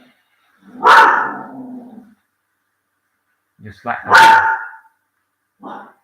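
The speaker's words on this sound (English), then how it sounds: "I got a territorial dog." A territorial dog barks in two loud, close bursts with short gaps of silence between them, followed by a brief fainter sound, while a person speaks briefly nearby.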